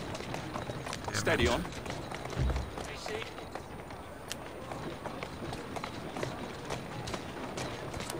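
Horse hooves clip-clopping in a steady trotting rhythm while riding through Victorian London in Assassin's Creed Syndicate, mixed with street ambience and someone briefly speaking over it.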